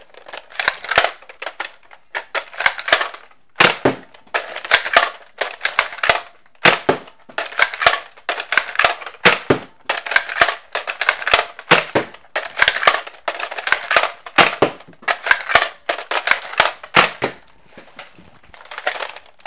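A Nerf Strongarm blaster fired over and over: dozens of loud, close, sharp snapping shots with priming clacks, coming in a quick, uneven rhythm with no talking.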